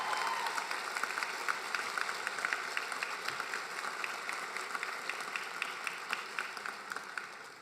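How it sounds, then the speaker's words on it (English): A law school commencement crowd claps in a hall, sustained moderately distant applause that fades slightly toward the end, without speech. "Please join me in giving these people a round of applause."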